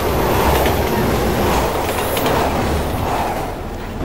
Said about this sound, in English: this is the other avoid the train bit, I think. You hear it?